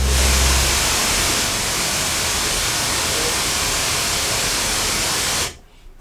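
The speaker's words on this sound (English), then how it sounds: "I'm sorry, that was the noise of the module." Broadband hissing noise from a Radikal Technologies Delta CEP A synthesizer module, a loud steady wash like rushing air that holds for about five seconds and then cuts off abruptly.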